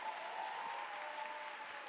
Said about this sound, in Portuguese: Pode bater palmas, vocês são lindos.